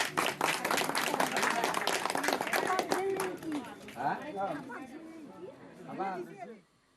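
People applaud a 108-year-old woman voter at a polling booth at Dinhata College, a burst of clapping and cheering crowd chatter that fades out over several seconds.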